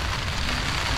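Heavy rain pouring down on a surface, a dense, loud, continuous hiss and patter close by with no pauses.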